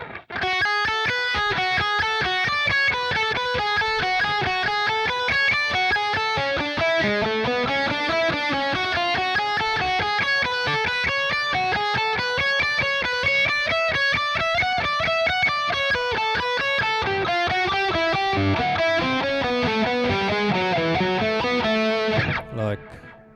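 A fast, continuous run of distorted electric guitar notes, improvised steadily and evenly without pause for over twenty seconds, loud and up close.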